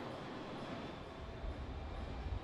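A train runs in the Plan B: Terraform video game with a quiet, continuous rumbling drone that stays fairly even, with a slightly heavier low rumble toward the end.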